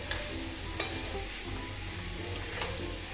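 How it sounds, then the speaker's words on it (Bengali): Spice-coated fried cauliflower and potato being stirred in a pan with a soft, steady sizzle, a few sharp spatula scrapes and knocks standing out close by, no talk. "এবার আমি এতে দিয়ে দেবো ভেজে রাখা ফুলকপি আর আলু"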